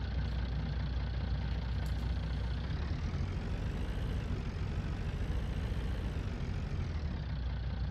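Tractor truck engine in Farming Simulator idles with a steady, continuous low rumble throughout, close and even in level with no speech over it.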